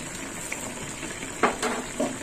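Soybean curry simmering in a covered pan gives a soft, steady bubbling with a few louder spluttering bursts near the end, heard up close with no talking.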